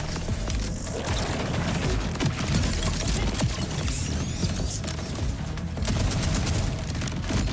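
Dense, continuous gunfire in Borderlands, rapid overlapping shots and bursts with mechanical clanks and booms, loud and unbroken throughout.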